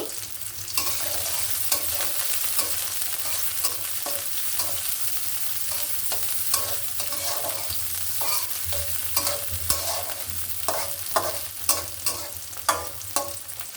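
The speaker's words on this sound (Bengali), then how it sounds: "পরিমাণ মতো তিনটা পেঁয়াজ আর বেশ কিছু কাঁচামরিচ এটা আমরা একটু ভেজে নেব" Onions and green chilies frying in a pan, a steady sizzle with repeated scraping and stirring clicks of a utensil throughout, close and moderately loud, no voices.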